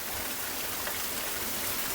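Steady, close rush of rainwater tumbling down mountain rocks near Waghbil cave and waterfall in Badlapur during monsoon, a continuous hiss with no break and no voices.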